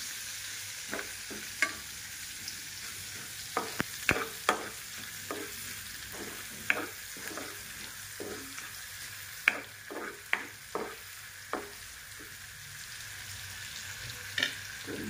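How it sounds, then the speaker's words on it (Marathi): Onion frying in a pan for paneer butter masala, stirred until brown: a soft continuous sizzle under irregular scraping and clinking stirs of a utensil against the pan, close and fairly quiet, with no talk. "आता याच्यामध्ये कांदा टाकून देते मी आणि कांदा ब्राऊन होईपर्यंत परतून घ्यायचं आहे."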